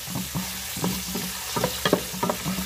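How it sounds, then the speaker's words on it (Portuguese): Onion and garlic sautéing in a pan, a close crackling sizzle broken by short, rhythmic bursts of stirring or scraping, about once every half second, with no voices. "Agora aqui tô refogando aqui a cebola e o alho, né?"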